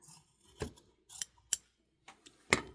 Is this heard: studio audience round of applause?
no